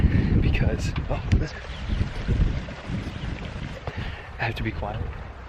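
A continuous rush of flowing water fills the background while a person talks nearby over it.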